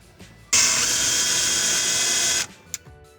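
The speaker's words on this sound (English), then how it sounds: "it's time to drill a pilot hole." A power drill with a 1/8 inch bit bores a pilot hole during an under-sink reverse osmosis install, one loud steady whine lasting about two seconds before it cuts off.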